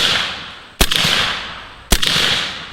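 Two loud, sharp shots from a Bintac T50 rifle fired while sighting in, about a second apart, each followed by a decaying rumble over steady outdoor hiss.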